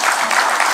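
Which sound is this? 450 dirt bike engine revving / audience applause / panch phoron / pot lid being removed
audience applause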